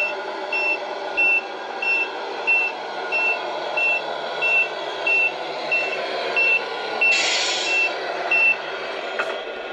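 A Volvo FH16 6x4 truck's reversing beeper chirps in a steady, regular rhythm over a low idling engine, with a short hiss of air near the end.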